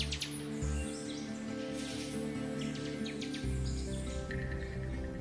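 Hawaiian honeycreepers sing in a dense chorus of bright, overlapping chirps and trills, steady and continuous throughout, with a low rumble running beneath.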